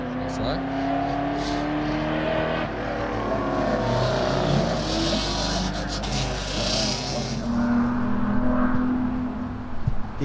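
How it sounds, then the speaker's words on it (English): An old Holden car runs up a lakeside hillclimb course, its engine droning and revving steadily at close range under continuous commentary from an announcer. "Beautiful example of an old Holden, this one."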